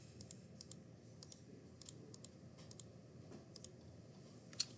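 Buttons pressed on a calculator while entering trigonometric values, a series of quick light clicks in small clusters, quiet and close, with no speech.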